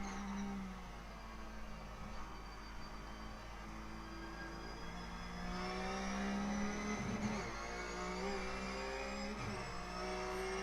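A Ruf C-Spec race car in the iRacing sim at Road Atlanta brakes hard, its engine note shifting through a steady loud drone with harmonic sweeps as revs drop and rise.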